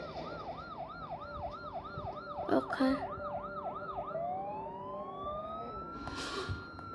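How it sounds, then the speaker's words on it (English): A police car siren in a gangster video game wails in a fast rising-and-falling cycle, then shifts to a slower sweeping tone, moderately loud over game ambience with a brief voice and a short burst of noise. "There's a police car."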